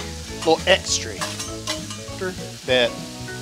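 Mushrooms hit a hot Blackstone griddle, sizzling and frying under scraping and stirring of a spatula against the flat-top, close and fairly loud with a few sharper clanks.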